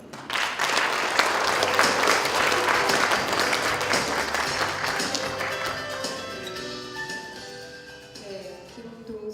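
An audience at a shared-growth cooperation conference applauds after a council member's congratulatory speech, dense clapping that gradually thins and fades as a voice begins to speak.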